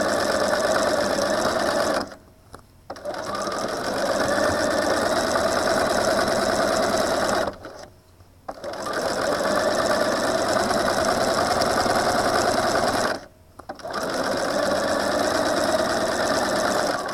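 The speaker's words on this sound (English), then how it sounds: "I'm going to continue sewing." Sewing machine stitching a string bag, a steady loud mechanical whirr that runs continuously, broken by three brief pauses where the needle stops to pivot, with no talk.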